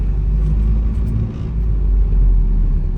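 A 2000 Opel Blazer with a DOHC engine drives along, its engine giving a steady low rumble and road drone from inside the cabin, with a slight dip and swell in level.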